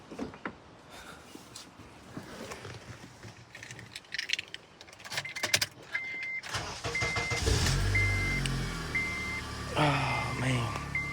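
A Honda Civic EK coupe with a K-swap idling with a Comptech cat-back exhaust: keys and cabin clicks come first, then the engine starts and settles into a steady, moderately loud rumble while a voice talks nearby.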